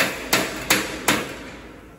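Three sharp hammer blows land at an even pace on a metal block, each strike ringing briefly before fading.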